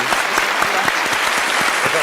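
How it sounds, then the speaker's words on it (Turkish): Studio audience applause on a Turkish television word-game show, a steady, full burst of clapping throughout, with faint voices underneath. "bir alkış alabilir miyiz?"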